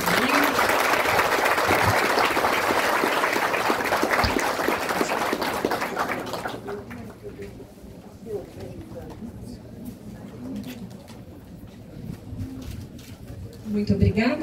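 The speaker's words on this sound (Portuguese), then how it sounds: "Salva de palmas para a dona Cleusa." An audience at a dam reinauguration ceremony claps steadily for about six seconds before the applause dies away, leaving quieter voices and the soft cooing of pigeons nearby.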